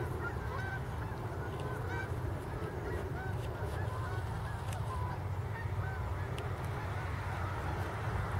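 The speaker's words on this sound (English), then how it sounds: "We also have the geese." Geese honking near a farm at sunset in autumn, many scattered calls from a flock at moderate distance, layered over constant low outdoor rumble with some faint voices in the background.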